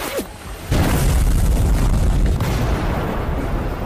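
A deep, loud explosion from an Indian action film, a sudden heavy boom that rolls on into a sustained roar of fire and debris.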